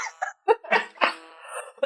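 A person breaks into a few short, close coughing bursts mixed with laughter, with brief pauses between them, in under two seconds.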